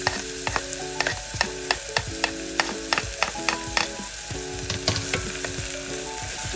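Onions and green chilies sautéing in about a tablespoon of oil in a pan for a Goan kingfish curry, a constant close sizzle with repeated light clicks of stirring.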